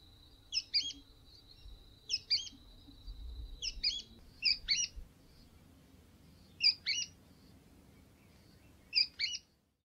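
A masked yellowthroat sings in short, high, clear phrases, about six bursts spaced a second or two apart, standing out over a low, steady background rumble.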